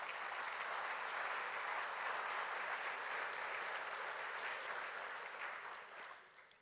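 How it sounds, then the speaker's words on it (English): An assembly audience at a church synod plenary session gives a sustained round of applause, dense steady clapping that fades toward the end. "you should give yourself a round of applause"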